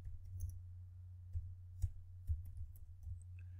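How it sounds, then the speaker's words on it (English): Laptop keyboard on a Windows 8 machine, a few sparse, quiet key presses and clicks spaced out over a low steady hum, with no talking. "I can just press my Windows key and type check for updates"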